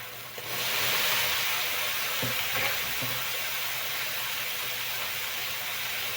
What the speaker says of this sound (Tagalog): Ilagay natin ang ampalaya.